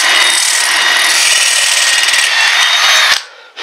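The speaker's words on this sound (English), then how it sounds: "I might go ahead and just try to drill a hole through here now" A power drill bores a hole through a metal center hub cap of a Ford Expedition, a loud close high-pitched grinding whine held steadily for about three seconds before it cuts off abruptly.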